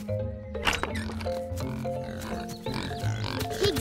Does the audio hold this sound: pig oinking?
yes